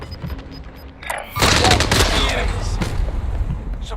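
Dense gunfire erupts in a military video game after a brief lead-in, loud overlapping shots and booms sustained for over two seconds.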